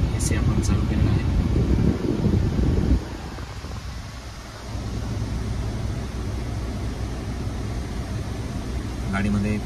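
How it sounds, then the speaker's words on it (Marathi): Air conditioning runs inside a Tata Nexon BS6 fitted with a CNG kit, a steady broadband blower hum and whoosh throughout, loudest over the first three seconds, then settling to an even drone. "गाडीचा AC आपण चालू केलेला आहे"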